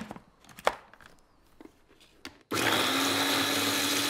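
A Beaba Babycook blender purées fibrous sweet potato with a little cooking liquid: a few quiet clicks and knocks, then a loud, steady, high whirring roar starts abruptly and runs without a break.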